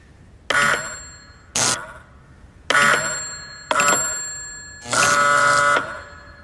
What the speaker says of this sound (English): So if I push the button on this end, it sets off the bell at the receiver.